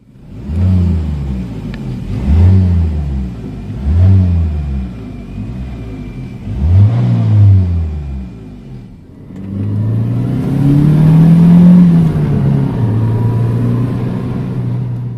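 A 1990 Renault 21 Turbo Phase 2 saloon engine turns over and catches, then revs in a series of rising and falling blips before settling into a strong, sustained high rev, loud and close with no voices.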